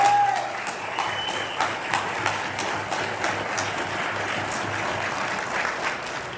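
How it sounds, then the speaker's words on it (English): Audience applause at a town hall meeting, a sustained, even wash of many hands clapping from a sizeable crowd, with a few sharper claps standing out and a brief voice at the start. "deserves another round of applause"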